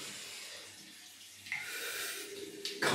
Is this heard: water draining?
yes